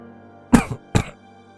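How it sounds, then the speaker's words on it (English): A person gives two short, harsh coughs in quick succession, close and clear against a quiet background. "Cardus mumbled as he coughed up some blood."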